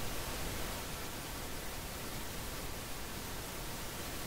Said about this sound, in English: Let's try to make another experiment with the pink noise.